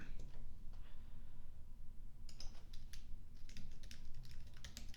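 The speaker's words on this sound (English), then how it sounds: "so let's type text" Quick bursts of keystrokes on a computer keyboard come after a quiet start, close and fairly soft, in uneven clusters of clicks with no talking.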